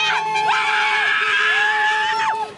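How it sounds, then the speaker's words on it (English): Tongan rugby fans at Auckland Airport scream and whoop in a dense, continuous crowd roar, with rising and falling shrill cries layered close and loud throughout. "Flags, kids, horns and screams of hope."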